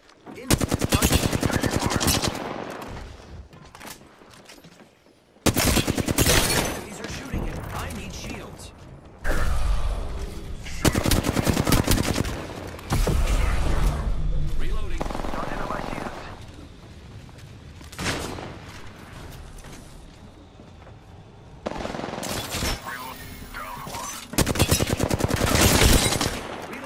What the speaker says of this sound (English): Hostile spotted. I am taking fire, friends.